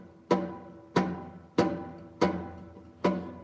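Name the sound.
plucking four muted strings at the same time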